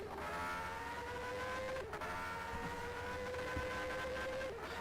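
A Formula 1 car from a racing video game circles the Australian Grand Prix circuit on a flying lap, its engine a steady, high-pitched whine that holds loud and continuous throughout with only a brief dip.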